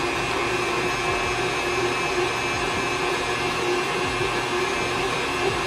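An electric mixer blends chocolate chip cookie dough with eggs added, producing a steady, loud motor whir that holds constant without pause from start to finish.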